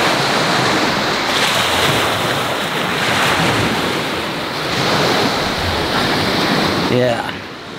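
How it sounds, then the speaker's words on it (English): Waves wash steadily over a pebble beach at Temperance River State Park on the North Shore, a loud, continuous surge with gentle swells and steady wind buffeting the microphone throughout. "I'm on one of the pebble beaches that are famous for the North Shore,"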